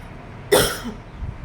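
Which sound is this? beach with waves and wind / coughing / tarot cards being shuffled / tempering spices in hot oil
coughing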